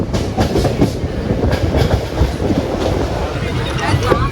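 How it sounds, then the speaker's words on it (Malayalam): Chennai Egmore Express rolls into Kozhikode railway station, a loud, steady clatter of wheels and carriage rumble heard from on board, with faint voices in the background. "10:52 ആയപ്പോൾ കോഴിക്കോട് റെയിൽവേ സ്റ്റേഷനിലേക്ക് നമ്മളിങ്ങനെ കയറിക്കൊണ്ടിരിക്കുകയാണ്"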